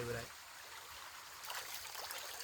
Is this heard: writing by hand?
no